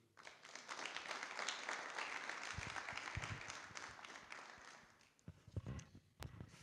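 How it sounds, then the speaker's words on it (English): Audience applause fills a university career expo opening ceremony at a Namibian campus hall, a dense steady clatter of many clapping hands that fades out near the end into a few scattered claps. "Please give him again a nice, warm hand of applause for that message."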